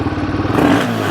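Royal Enfield Himalayan 452 motorcycle fitted with an AEW performance exhaust, a steady, loud, close engine rumble with a brief rising rev partway through, heard alone.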